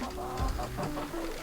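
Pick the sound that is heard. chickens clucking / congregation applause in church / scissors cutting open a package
chickens clucking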